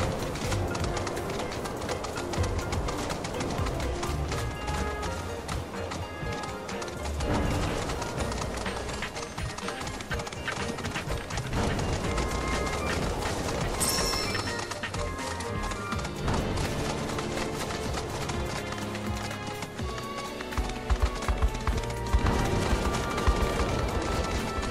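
Chocobo footsteps in the video game Final Fantasy 7 Rebirth thud in a rapid, steady clip-clop running rhythm with bird-like calls over dense game music and effects throughout.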